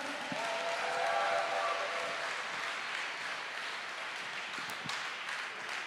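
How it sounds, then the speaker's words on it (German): Audience applause at a Christian testimony gathering, a dense, steady wash of many hands clapping that holds at an even loudness for several seconds without talk. "Ein Applaus nochmal für Marissa."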